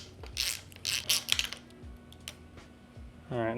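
A ratchet wrench turning a 10 mm bolt on a Fox 34 bicycle suspension fork, several short bursts of fast clicking, close and crisp, with quiet gaps between and no talk.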